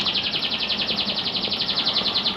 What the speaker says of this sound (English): I'm going to leave the birds flying around. I've got an indoor aviary.